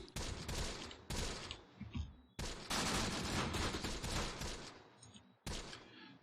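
Mortar rounds land in the Close Combat war game as a burst of heavy, crackling impacts, several loud explosions in irregular succession with short gaps between them, harsh and close, with no voices.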